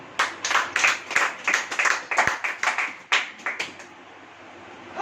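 A church congregation claps in a steady rhythm of repeated loud, sharp bursts of hands, close and strong, with no talking, before fading to a quiet room tone at the end.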